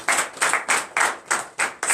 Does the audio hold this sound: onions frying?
no